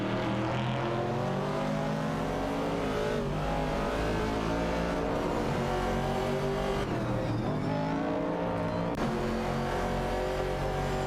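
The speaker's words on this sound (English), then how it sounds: "Wayne 94 and Chieftain X are maneuvering their Mercury Cougar machines, while Naga 77 is skillfully handling an AMC Javelin 70" Racing video game with Mercury Cougar and AMC Javelin 70 race cars: steady, loud multi-engine roar with layered revving and gear changes throughout, cars running close together with no talking over them.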